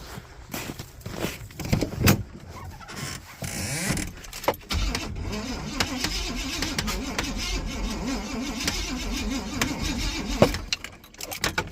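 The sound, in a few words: Chevy K1500 truck engine cranking and starting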